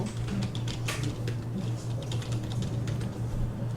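Keys clatter in quick bursts on a computer keyboard as numbers and Enter are typed while drafting in AutoCAD, close and steady over a low constant hum.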